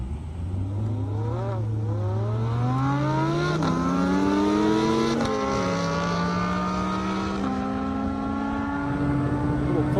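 A Lamborghini Huracan with 580 horsepower and a Dodge Viper racing down an airstrip, engines revving hard through rising gear after gear with clear shifts, loud and sustained at close range.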